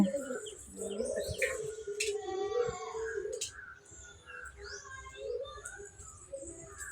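Two bird chicks in a nest at a village home chirp repeatedly in thin, high calls, with cooing from a nearby adult dove or pigeon underneath and other birds faintly in the background.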